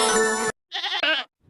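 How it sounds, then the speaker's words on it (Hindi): A goat bleats loudly and close by, one long cry followed by a shorter, wavering two-part call, with brief silence between. "अरे, यह तो बकरी के चिल्लाने की आवाज है,"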